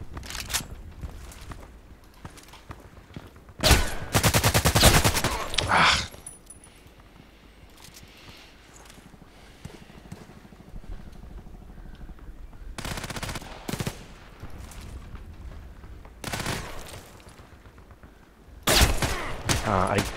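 Gunfire in the online shooter Contract Wars: loud bursts of rapid automatic fire at several points, separated by quieter stretches of game ambience and softer clicks, with no talk.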